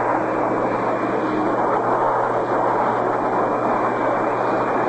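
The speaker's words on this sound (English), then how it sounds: "There's been a lot of airplane traffic this afternoon." Airplanes flying over a baseball stadium during a 1959 Cleveland Indians versus New York Yankees game, a steady, loud, broadband roar lasting throughout without any talk.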